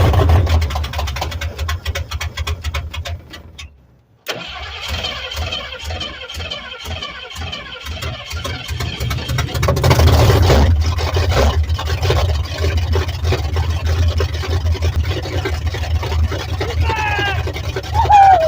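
A 1968 Ford 302 V8 turns over with a rhythmic starter cranking, then catches and settles into a steady, loud idle that runs on alone for several seconds.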